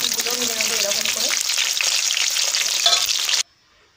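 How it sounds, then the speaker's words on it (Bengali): Pakoras deep-frying in hot oil give a loud, steady broadband crackle and sizzle for about three and a half seconds, with brief low tonal clatter near the start, then cut off abruptly to near silence. "এইরকম লাল লাল করে ভেজে নেবো পকোড়াগুলো"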